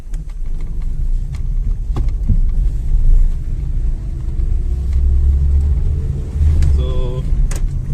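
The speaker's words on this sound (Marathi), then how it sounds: "कशी वाटते गाडी चालवायला?" A car engine rumbles steadily from inside the cabin on a drive between Tambave and Wing, with road noise and a couple of brief clicks and beeps.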